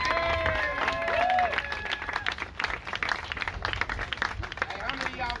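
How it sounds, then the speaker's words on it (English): At a Dallas police brutality protest, a street crowd breaks into scattered clapping and cheering, with whistles and voices mixed into the noise, fairly distant and uneven rather than a solid wall of applause. "Everybody give yourselves a round of applause one time."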